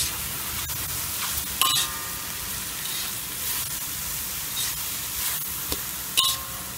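Mushrooms frying in a pan for a mushroom prawn soup, with a steady close sizzle and a few sharp clinks of a utensil stirring against the pan, no talking.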